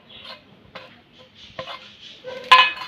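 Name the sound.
mixing mustard-leaf mash with coriander leaves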